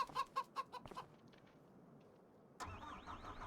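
Chickens in Farming Simulator 25 give a quick run of clucks at the start, followed by a quiet stretch and then a rising mechanical whine from farm machinery.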